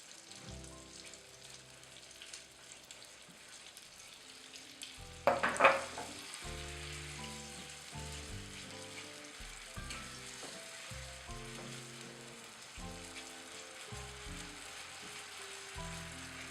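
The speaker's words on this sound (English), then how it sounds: "I'm going to go ahead and add our cream. Stirring constantly." Cream stirred constantly in a hot pan, a loud burst of sizzling as it goes in, then a steady frying hiss with regular spoon strokes and scrapes, close and unbroken, no speech.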